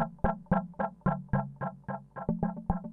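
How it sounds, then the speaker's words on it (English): A Tip Top Audio ECHOZ Eurorack module plays a stereo ping-pong echo on short synth plucks, a steady rhythmic train of about a dozen repeating hits with decaying tails, no talking. "This echo sound, this stereo echo, ping pong."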